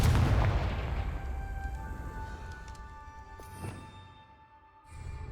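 A Confringo blasting spell from Hogwarts Legacy goes off in a loud, booming burst at the start, its rumble fading slowly over several seconds, with a smaller thud near the end amid game ambience.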